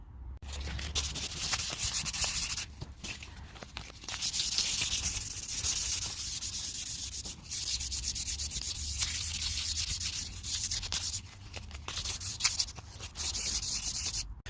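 An alloy Subaru wishbone being rubbed clean by hand with metal polish gives close, steady scrubbing strokes in repeated bursts, broken by short pauses.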